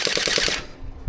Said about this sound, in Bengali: আমি জাস্ট কয়েকটা ফায়ার করে দেখাই, দেখি তো ভাই।